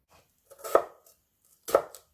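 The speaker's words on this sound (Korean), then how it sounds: "배를 좀 도톰하게 썰어서 설탕물에 담궈주세요." A knife slices through a pear on a cutting board, two crisp, close cuts about a second apart in otherwise near silence.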